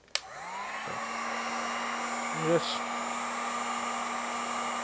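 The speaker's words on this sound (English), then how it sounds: "Your heat gun most likely has multiple settings, just like a blow dryer. Put it on the low one." A heat gun on its low setting shrinks a new wrap onto an e-cigarette battery: a click as it switches on, then a steady, close, blow-dryer-like whoosh with a motor whine, with a short brief bump partway through.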